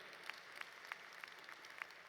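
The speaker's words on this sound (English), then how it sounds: "Give Dr. Lane a very big applause for his service today." Applause from the audience at a university commencement ceremony, heard as a soft, distant wash of scattered clapping with a few sharper individual claps standing out.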